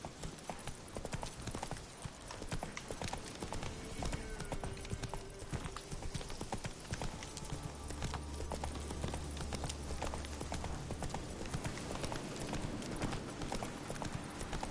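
A horse gallops in the Witcher 3 video game, its hooves drumming a steady, rapid clip-clop close up for the whole stretch, with an occasional snort or whinny over game ambience.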